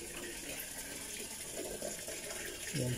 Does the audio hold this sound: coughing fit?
no